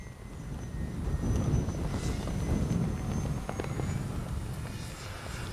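An FMS PC-21 Pilatus RC jet model flies in gusty wind, its steady engine drone swelling and easing at a moderate distance over an outdoor background hiss.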